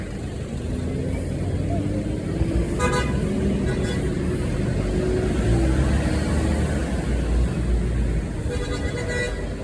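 A bus rumbles on a street and pulls away, its engine droning steadily with a couple of short horn toots and a voice speaking over it.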